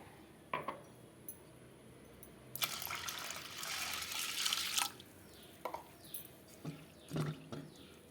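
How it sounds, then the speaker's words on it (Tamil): Water pours steadily into a bowl of lentils for soaking for a couple of seconds, framed by light clinks and taps of a vessel before and after. "இது மூழ்கிற அளவுக்கு நான் வந்து தண்ணி சேர்த்துக்கிறேன்"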